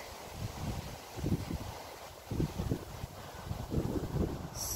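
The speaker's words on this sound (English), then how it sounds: "Windy." Gusty wind buffets the microphone in uneven low rumbling bursts, rising and falling throughout with no voices.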